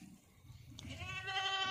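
A goat on a farm in Dergaon, Golaghat, lets out a single clear bleat, a wavering call that rises out of quiet background noise and carries on to the end, fairly faint and somewhat distant.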